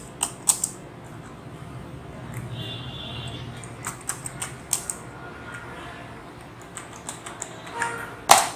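Typing on a computer keyboard while entering month names into an Excel spreadsheet: scattered, irregular key clicks and taps close to the microphone, with a soft hum underneath and a louder clack at the end.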